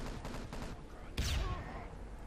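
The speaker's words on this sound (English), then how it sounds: "nice nade by Special" A grenade explodes in a competitive 6v6 online shooter match, a sudden heavy blast arriving after a few spaced bursts of gunfire and decaying over the last second.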